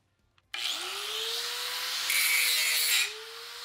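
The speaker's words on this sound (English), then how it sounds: "I'm just skimming it over to get rid of the excess soot. I'm not putting pressure, I'm just letting the grinder do the work, guiding it over." An angle grinder lightly skims excess soot off scrap metal being prepped for MIG welding practice. The motor spins up with a rising whine into a steady, loud grinding hiss, which grows harsher midway and then eases.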